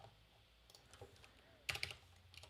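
Computer keyboard typing: a few soft, scattered key presses, then a short burst of sharper clicks, all faint over a quiet room background.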